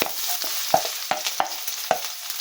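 Freshly washed pechay hitting very hot cooking oil, sizzling and spattering steadily, with a few sharp pops and stirring clatters close by.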